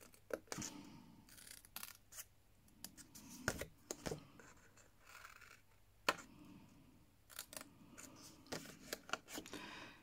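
Scissors snip through a narrow 1 cm strip in quiet, irregular crisp cuts, some sharper clicks standing out, fairly close and soft overall.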